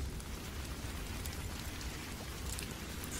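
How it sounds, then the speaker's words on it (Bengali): Torrential rain pours down over a marshy wetland, a dense, even hiss of drops drumming on surfaces without pause, steady and close with no voices. "মুষলধারে বৃষ্টি।"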